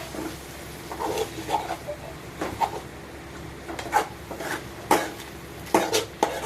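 Fish egg fry in oil is stirred in a metal pan, giving irregular close scrapes and clinks of a spatula against the pan over a quiet background.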